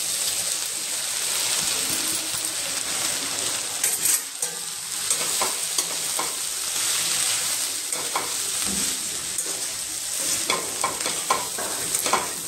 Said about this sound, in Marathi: आता त्यात आपण हे पोहे घालून घेणार आहे।